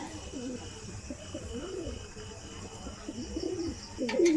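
A pigeon coos in repeated low, rolling phrases close by, with a faint background hum and a brief sharper noise near the end.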